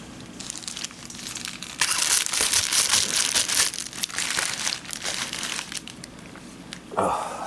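Plastic DVD packaging being cut open and unwrapped, with loud crinkling and crumpling bursts alongside some tearing, close and continuous, and a short pause toward the end.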